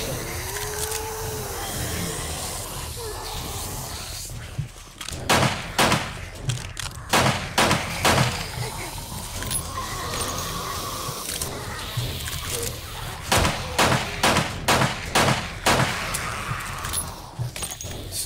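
Gunfire in the survival game 7 Days to Die rings out in several rapid bursts of sharp shots over a busy ambient background, with long pauses between volleys.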